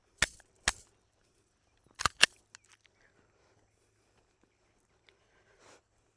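Glock 26 pistol chambered in 9mm with an extended grip and Glock 17 magazine, firing several sharp close shots: two quick reports, then a tight pair, with faint handling noises after.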